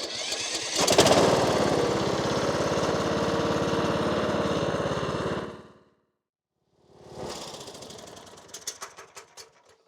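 A Kohler lawnmower engine fires up and runs loudly and steadily for several seconds, then cuts out into silence before restarting with a rougher, sputtering idle.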